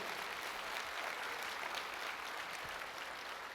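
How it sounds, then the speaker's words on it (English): An audience at a school conference opening session in Baltimore applauds for poetry, a dense, steady patter of clapping held at an even level. "a round of applause for poetry"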